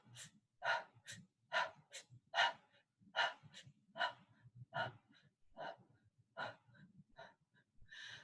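Deep breathing exercise done while pushing the stomach out: a steady series of forceful, audible breaths, each in-and-out close and fairly loud, repeating in an even rhythm with brief pauses between.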